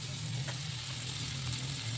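Grated potato and tomato stirred into a bubbling curry gravy with green banana, a steady close sizzle and frying hiss throughout with faint scraping, no voices.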